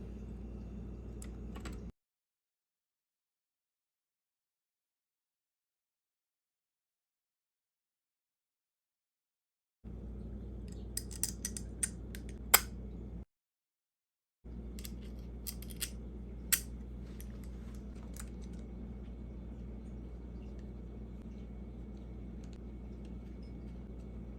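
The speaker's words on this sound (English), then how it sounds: "now I'm just gonna reassemble it and see if that did it" Reassembly of a squeaky HE168RC fan: scattered plastic clicks, taps and small rattles over a steady low hum, broken by long silent gaps where the recording cuts out.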